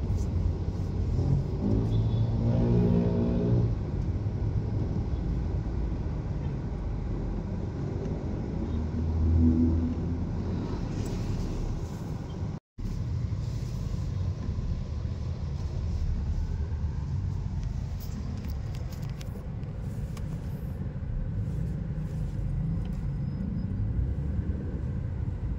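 Road traffic heard while riding a motorbike in Baliwag, Bulacan: a continuous rumble of engines and wind with a passing vehicle swelling early on, dense and steady throughout.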